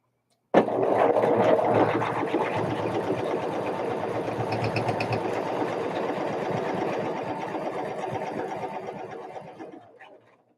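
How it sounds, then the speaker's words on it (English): A sewing machine stitching quilt fabric for a London Town sampler block runs in one steady, close, whirring burst of rapid needle strokes for about ten seconds, then stops, with no talking. "Sew this on."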